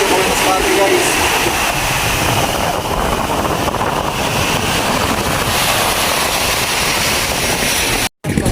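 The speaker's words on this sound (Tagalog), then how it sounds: "ang lalaki ng alon dito guys sa Divisoria, Masbate" Large sea waves roll in at Divisoria, Masbate, a constant loud broadband wash of surf and wind buffeting the microphone, steady throughout with no pauses.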